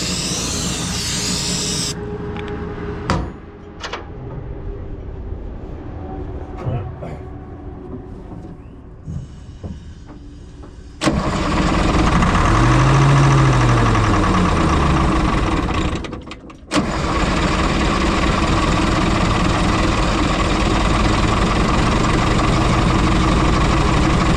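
A Galion engine being cranked with the throttle held down, quiet clanks and rattles at first, then a loud, steady mechanical roar that drops out briefly and returns, with no voices.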